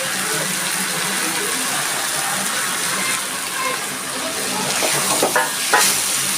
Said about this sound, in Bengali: এবার আমি সবজি ভাজাটা দিয়ে দিচ্ছি